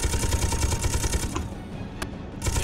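Rapid, continuous heavy gunfire from a gunship's guns in the video game Space Engineers rattles loudly in fast bursts, followed by a few separate sharp shots after a brief lull.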